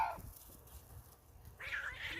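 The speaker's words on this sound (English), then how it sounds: "If you wonder what that was a cat fight." Cats fighting somewhere off to the side outdoors near beehives, brief yowling cries at the start and again near the end over a quiet background.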